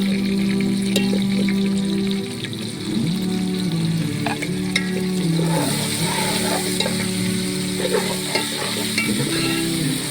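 Garlic, ginger and chili paste sizzles and spits in hot oil while a spoon stirs and scrapes the pan, close and continuous, with a low hum in the background.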